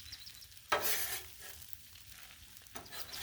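Beef fried rice is stirred and scraped on a Blackstone griddle, with a sharp sizzling burst as food hits the hot surface, then quieter frying and a second flare of sizzle, close by.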